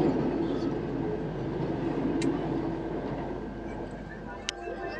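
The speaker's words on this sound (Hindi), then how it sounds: "ये देखिए वंदे भारत एक्सप्रेस हमें ओवरटेक करते हुए इस रूट।" A Vande Bharat Express train overtakes on a parallel track near Malavli, heard from inside a moving Mumbai-bound express as a steady, broad rumble of wheels and carriages with a few brief sharp squeals, continuous throughout.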